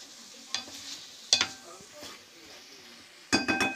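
Mushrooms in sauce stirred in a pan, a spoon scraping and clinking against the metal in a few distinct bursts over a soft sizzle, close and fairly quiet.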